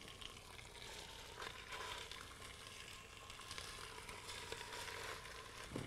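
Spare ribs brown in a little hot oil in a pressure cooker, giving a faint, steady sizzle and crackle with small pops and no talking.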